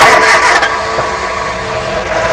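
A car engine catches and runs, a loud, close mechanical roar that settles into a steady idle hum with no voices.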